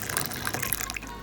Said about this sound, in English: Add 2 cups of hot water into this mixture